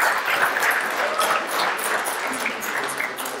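Steady round of applause from a stand-up comedy show audience, dense clapping that holds evenly at moderate loudness for the whole stretch with no voices on top.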